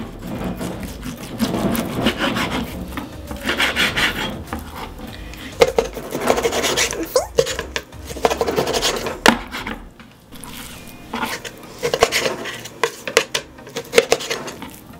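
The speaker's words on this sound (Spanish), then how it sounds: "Primero voy a cortar la carne" A knife chops beef on a cutting board for spicy Korean yukgaejang beef soup, giving repeated irregular knocks and scraping strokes at close range, with short pauses between bursts and no talking.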